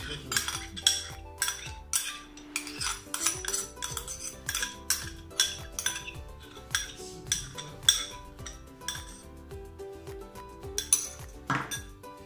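A spoon piles tuna salad on top of an omelette on a plate, making a quick run of close metallic clinks and taps against the dish that continues unevenly, with no talking.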